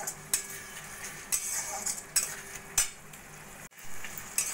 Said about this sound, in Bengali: সসটা ভালো করে মশলার সঙ্গে মিশিয়ে নেব।